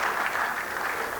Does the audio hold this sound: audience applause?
yes